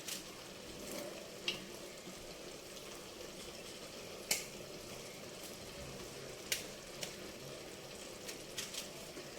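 Eggplant pieces sizzle softly in a pan while sambar is being made. The steady, quiet frying hiss is broken by a few sharp clicks and pops, and nobody talks.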